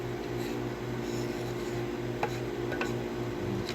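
Beef tallow stirred into an old black iron pot, a soft steady scraping with a couple of light clinks, close and even throughout.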